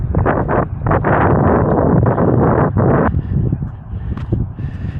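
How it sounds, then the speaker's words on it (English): Strong outdoor wind buffets the microphone with loud, rumbling gusts that surge and drop, easing toward the end where fainter rustling and gusts remain. "It's really windy, so I'll probably go ahead and stop the video because the wind's going to run the footage anyway."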